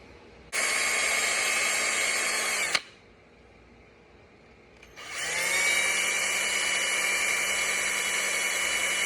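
Small power drill boring a hole in a homemade Weepinbell fishing lure: two loud, steady high-pitched whirring bursts separated by a brief quiet pause, the second spinning up and running on.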